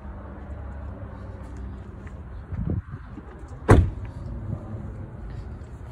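A 2017 Subaru at a truck dealership is closed up: a short whirring power window, a pause, then one sharp door slam, with a fainter clunk after, over quiet background hum.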